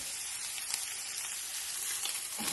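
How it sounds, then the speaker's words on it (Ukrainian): Minced beef sizzles steadily in a hot pan, a continuous crackling hiss with no pauses. "хай смажиться трішки"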